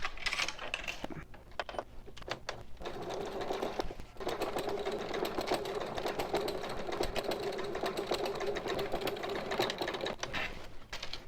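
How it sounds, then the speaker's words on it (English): A sewing machine runs in steady bursts while top stitching a bag lining, its rapid needle rattle holding for long stretches with short pauses and small clicks between runs. "So I'm going to be top stitching this time on the lining bottom"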